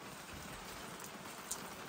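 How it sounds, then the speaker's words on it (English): Heavy rain pours down in a dense, continuous hiss, steady and close, with no voices, in the Australian outback. "This rain, not doing me any favors."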